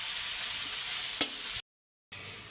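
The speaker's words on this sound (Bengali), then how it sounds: "আমার কিন্তু পেঁয়াজ মরিচগুলো ভাজা হয়ে গেছে" Onions and chilies frying in a pan, a continuous close sizzle with one sharp click, cut off by a brief moment of total silence before the sizzle returns.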